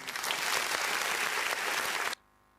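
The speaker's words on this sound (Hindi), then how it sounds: "क्या बात है, तालियों की आवाज।" Crowd applause at a cricket match after a six is struck, a dense, loud burst of clapping that holds steady and then cuts off abruptly near the end.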